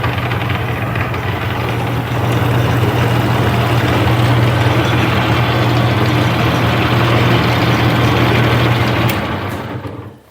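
A metal lathe running in gear at a raised speed gives a loud, steady mechanical drone with a strong low hum. It holds evenly for about nine seconds, then winds down and stops.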